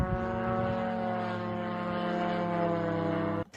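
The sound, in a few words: Lyut attack drone flying, loud and slow propeller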